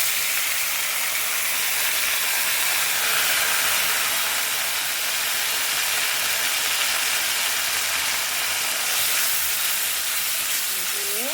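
Spice paste dropped into a hot pan of fried potatoes for a Bengali snakehead fish curry, giving a steady, loud, close hiss and sizzle that continues without a break.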